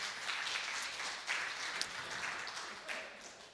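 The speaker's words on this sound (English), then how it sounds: "Yeah, please clap." A livestream meetup audience gives a round of applause, a dense, fairly quiet patter of many hands clapping steadily throughout with no one talking over it.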